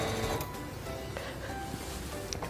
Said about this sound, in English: Release the reverse button and sew to the end.